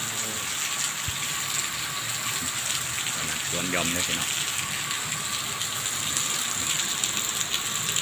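Steady rain pours down outdoors in a continuous, even hiss that fills the whole stretch, while someone talks over it.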